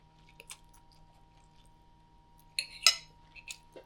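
Someone quietly chews spaghetti mie goreng fried noodles up close, with soft wet squishes and a few sharper clinks of cutlery against a dish over a faint steady hum.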